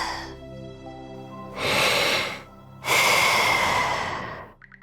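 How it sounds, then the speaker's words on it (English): A sleeping character in YS X: Nordics breathes steadily, with two long, slow breaths standing out clearly over soft background music, each a broad airy exhale. "The sound of Karja's steady breathing fills the air."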